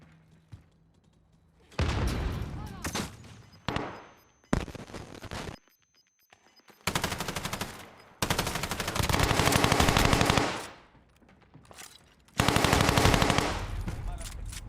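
Loud bursts of automatic gunfire rattle in a video game battle, several long volleys broken by short silences, with a voice heard faintly between them.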